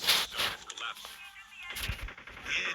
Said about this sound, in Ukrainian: О, там якісь перестрілки.